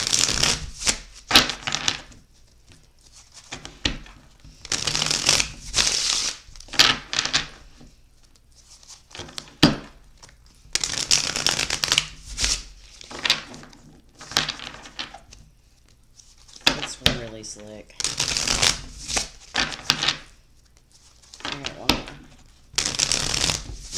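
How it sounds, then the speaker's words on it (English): A D&D card deck is shuffled by hand in repeated crisp riffling bursts, each a few seconds long with short pauses between them, close and clear, while a person talks between the shuffles. "Get it all nice and shuffled."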